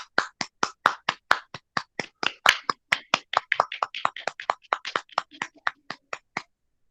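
Workshop participants clap for themselves, a small group producing a quick run of sharp, separate handclaps that spreads into a loose ragged patter for several seconds before stopping, heard fairly close and without talk.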